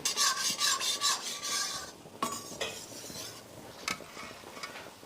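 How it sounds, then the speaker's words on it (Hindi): Kala jamun, a dark gulab jamun, is stirred in a pan with a utensil, giving rhythmic scraping and rubbing strokes that pulse about every half second, then looser scrapes and clinks against the metal. "धीरे धीरे करके अब हमें गुलाब जामुन को चलाते रहना है।"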